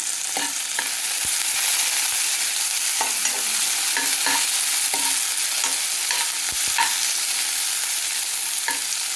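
Tomato pieces fry in a pan for a cucumber and sesame chutney, a loud, steady sizzle under repeated spoon stirs and occasional clicks against the pan, no voices.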